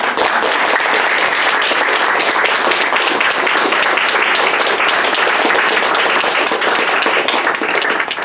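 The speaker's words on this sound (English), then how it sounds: "Can we give another round of applause to our amazing" Steady, dense applause from a large crowd at an academic symposium roundtable fills the whole stretch, loud and close, with no pauses.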